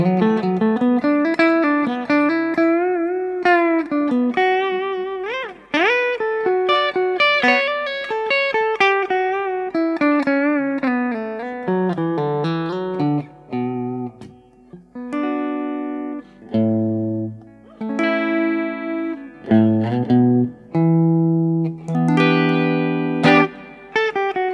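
Electric guitar through a Mesa/Boogie Mark V:25 amplifier set to a warm, saturated tone, playing a continuous melodic line that shifts into sustained chords and bends, loud and close with no talking.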